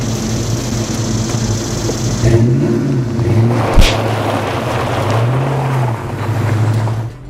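A Fox Body Mustang rumbles along on the road, its engine droning steadily with a couple of rising and falling revs, loud and close throughout with no talking.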